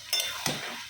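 Posto, a poppy seed dish, stirred and fried in a pan: a steady close sizzle runs through the second with two scraping strokes of the spatula, and no talking.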